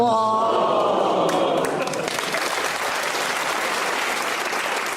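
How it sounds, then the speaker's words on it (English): A studio audience at a panel game show applauds. A brief tonal sound comes first, then a dense, steady wash of applause that carries on loudly to the end, without talk. "You get a round of applause."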